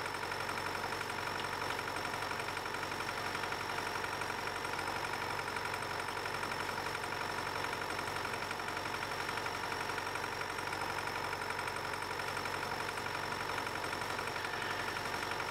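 A tractor engine idles steadily in Farming Simulator 19, a continuous mid-to-low droning hum with a faint knocking texture that stays even and unbroken throughout, with no voices.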